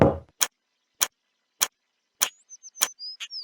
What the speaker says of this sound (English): if you don't press, there's a clock ticking and then she'll move on